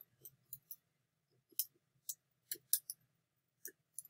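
Computer keyboard keys tapped while typing on a Linux application, a sparse run of crisp clicks in uneven bursts, close and fairly quiet against a faint low hum, with no voices.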